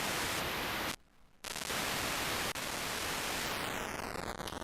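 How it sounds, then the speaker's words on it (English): Harsh bitcrusher processing at 3-bit resolution, downsampled sixteen times, turns the sound into dense, gritty static. It breaks for a brief gap, a sharp click cuts through, and faint whistling tones rise near the end. "It's at 3-bit resolution. It's downsampled by 16 times."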